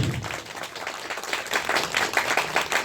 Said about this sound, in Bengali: আমরা করতালি দিব সবাই